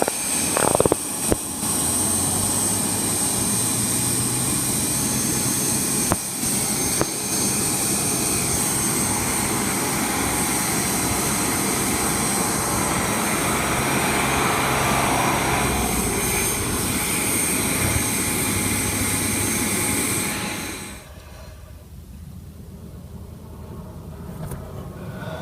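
An airplane engine at Toledo airport drones steadily from a distance during taxiing, with a broad rushing roar that fades away near the end.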